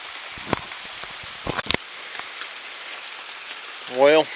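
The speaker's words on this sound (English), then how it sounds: "it started raining harder" Heavy rain falls at a deer camp in Alabama, a steady close hiss of drops on a surface with a few sharper taps, and a brief voice near the end.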